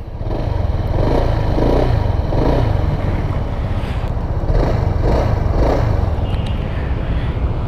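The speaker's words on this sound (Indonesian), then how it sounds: "Dan untuk bunyi knalpotnya seperti ini." A Honda PCX 160 scooter engine runs steadily at idle, its exhaust putting out a low, continuous rumble with faint pulsing swells.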